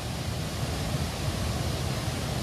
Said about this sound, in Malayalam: തൊമ്മംകുത്ത് വെള്ളച്ചാട്ടം.